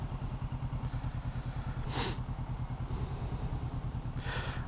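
A motorcycle ridden through Los Angeles, its engine a steady, loud, close low drone with a pulsing rhythm throughout, and two brief bursts of wind rush partway through.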